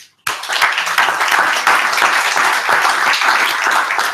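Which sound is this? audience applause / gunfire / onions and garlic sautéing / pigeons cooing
audience applause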